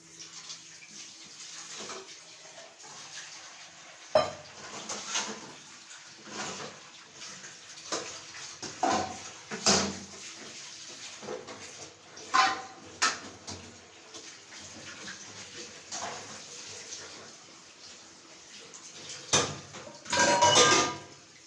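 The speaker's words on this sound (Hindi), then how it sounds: "फिर अब उसको धोएंगे बर्तनों को।" Dishes are washed under a running tap in a home kitchen, with steady splashing water broken by frequent clinks and clatters of pots, plates and cutlery, close by and with no talking.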